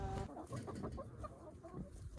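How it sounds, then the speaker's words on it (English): Backyard chickens cluck softly in their run, a steady stream of short, close clucks and murmurs with no voices over them. "You gotta love chickens."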